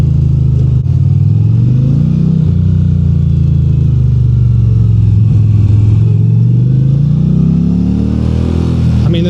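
Indian Chieftain Pursuit Darkhorse motorcycle with a V-Twin Power Plus engine, loud and close, its deep throbbing rumble climbing and falling as the rider works the throttle through corners, with no speech.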